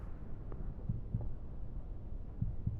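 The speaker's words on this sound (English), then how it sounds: "if you play the heart pounding over the top of it" Pounding heartbeat sound effect from a podcast soundboard, faint low double thumps recurring irregularly over a steady low rumble.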